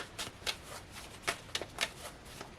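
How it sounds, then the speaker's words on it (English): Tarot cards being shuffled by hand, a run of soft papery riffles and slaps in uneven bursts, close and fairly quiet with no talking. "That was me being a clumsy shuffler."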